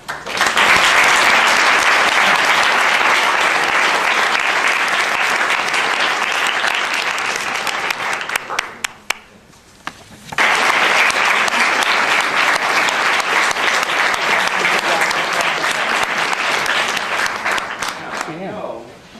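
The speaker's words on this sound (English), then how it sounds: "get to stand up again so we can applaud." Sustained, loud audience applause for award-winning students at a university awards ceremony, dense clapping that dips and briefly thins around the middle before surging again and tapering near the end.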